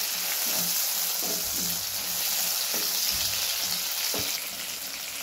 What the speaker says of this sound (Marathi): चांगलं परतून घेऊया टोमॅटो